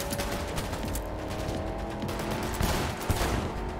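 Rapid automatic gunfire in the video game Cyberpunk 2077, a dense, steady stream of shots filling the whole stretch with a few sharper bursts near the end.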